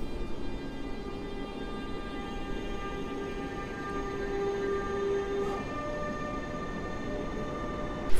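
A Wiedenka passenger train pulls out of Warszawa Zachodnia station during construction work, giving a steady, even rumble and rail hum with a sustained tonal whine, with no voices over it.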